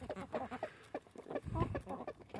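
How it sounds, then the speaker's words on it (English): A rooster clucks close by as chickens peck at sunflower seeds, a run of soft, repeated low clucks with faint scratching and rustling, no talking. "Let's get the rooster."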